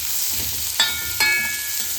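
Steady crackling sizzle of chopped onions frying in a heavy pan, with two brief metallic scrapes of a utensil stirring partway through.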